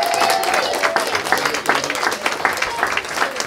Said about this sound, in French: Donc il y a Cédric, que vous pouvez applaudir.